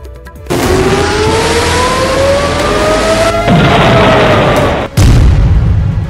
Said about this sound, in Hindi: इजराइल पर 200 मिसाइलों से ताबड़तोड़ हमले किए गए।